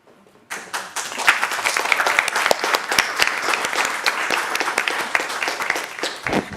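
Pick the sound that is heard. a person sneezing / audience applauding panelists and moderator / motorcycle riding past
audience applauding panelists and moderator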